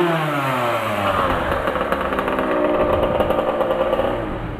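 A two-stroke Honda CR 80 trail dirt bike engine runs up close with a loud, steady buzzing drone and slight wavering revs, without any talk.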